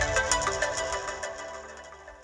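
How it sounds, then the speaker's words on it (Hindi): A mobile phone ringtone plays in a Hindi TV drama scene, a bright melodic tone pattern sounding alone and fading over a couple of seconds. "गुड्डी का फोन है।"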